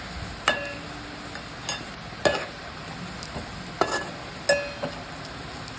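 Garlic fries in a pan for a spinach and garlic dish, a faint steady sizzle broken by a series of sharp spatula clicks and scrapes at a regular stirring pace.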